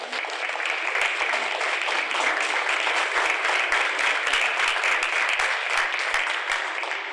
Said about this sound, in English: Would you please rise for applause?